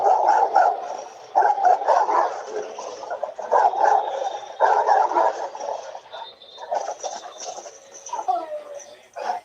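A dog barks repeatedly in short, loud bursts outdoors. The barks come close together and run under a busy mix of other voices and noise.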